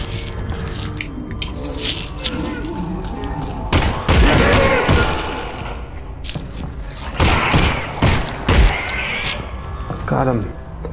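Gunshots fire in the VR game Half-Life: Alyx: a few loud, sharp bangs spaced seconds apart stand out over a busy bed of game noise, clatter and thuds.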